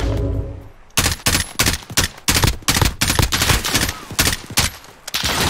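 Gunfire in Call of Duty Modern Warfare 2, a burst of repeated loud close shots after a quiet opening, firing in uneven bursts of several rounds over about four seconds.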